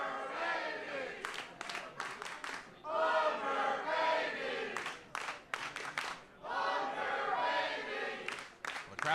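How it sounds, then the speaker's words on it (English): A wrestling crowd at a gauntlet match chants in rhythmic bursts, many voices rising and falling together in a large arena, with cheering and shouts between chants. "the crowd chanting Wonder Baby towards Brian Morris"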